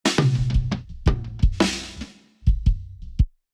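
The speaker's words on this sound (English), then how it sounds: "The toms are also live." Live-recorded toms from a full-kit session with mic bleed, struck in a run of several loud, resonant hits with sustained low pitched ring, a short pause, then a few more hits.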